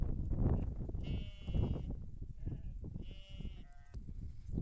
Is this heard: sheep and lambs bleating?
yes